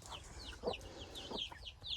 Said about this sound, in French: Et après, on a des poules.